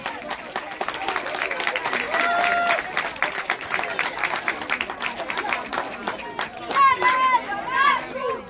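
A crowd at the opening match of a Romanian youth football cup applauds the referees, steady clapping mixed with loud chatter and children's voices, with people talking over it.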